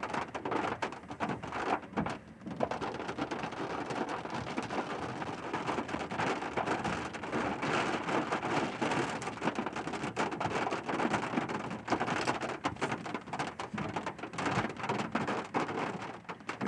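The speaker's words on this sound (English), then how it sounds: "It's gonna start raining hard." Steady, dense rain pours down in a continuous hiss during a Central Texas storm, with faint low rumbles mixed in.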